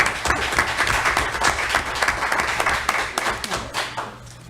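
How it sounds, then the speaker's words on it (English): An audience at a city commission meeting in Pahokee breaks into a steady round of applause, dense overlapping claps sustained throughout and tapering slightly at the end, with a faint murmur of voices beneath. "give Ms. Clark a round of applause for the job well done"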